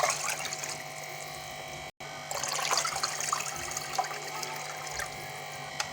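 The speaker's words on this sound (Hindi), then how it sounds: "अब इसके अंदर हम डालेंगे पानी।" Water pours steadily into a bowl of curry batter, a continuous splashing trickle broken by one short gap, with no talk over it.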